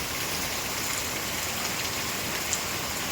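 Steady heavy rain falls on an evening at the start of the monsoon, producing an even, unbroken hiss of drops on surfaces with no pauses.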